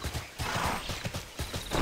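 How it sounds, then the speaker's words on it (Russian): Horse hooves clip-clopping in the Tera online game as a mount sets off, a quick steady rhythm of close, crisp hoofbeats running alone. "давайте на лошадке"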